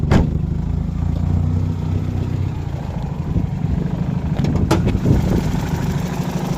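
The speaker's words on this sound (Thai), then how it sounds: "สตาร์ทเครื่องให้ดูนะครับ เครื่องติดแล้วนะครับ" A 1995 Toyota Corolla's 1300cc 4E engine, automatic, idles with a steady, low, rattly chug after starting, broken by a couple of sharp clicks and clanks.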